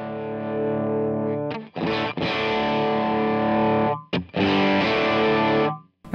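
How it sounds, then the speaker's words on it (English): Driven electric guitar through a Fractal FM9 Supro amp model, sounding gritty and distorted: long ringing chords broken by short pauses and restrikes, loud and up close, with no voices. "This is the sound of the Supro."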